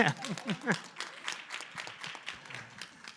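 A small conference symposium audience gives light, scattered applause, fairly quiet and a little distant, with a voice heard briefly at the start.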